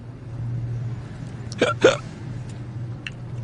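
Two sharp hiccups from a woman sitting in a car, close together near the middle of the clip, over a steady low engine hum.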